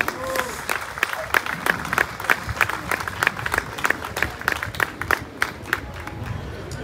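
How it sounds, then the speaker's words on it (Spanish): An outdoor festival crowd at the Fiesta del Rosario in Chillán Viejo claps in a steady rhythmic beat, sharp regular claps over crowd murmur, with a few cheers and voices mixed in. "Un aplauso para Chillán Viejo,"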